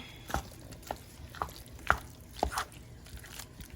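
A spoon stirs pot roast juices and shrimp together in a pot, making a few soft, wet squelches and clicks spaced about half a second apart, faint and close, with no talking over them.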